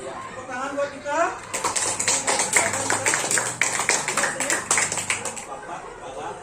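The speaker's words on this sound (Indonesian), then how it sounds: "Ya, tepuk tangan buat kita." Applause from a school group, a burst of clapping that starts after a speaker's voice and runs for several seconds at moderate closeness before tapering off.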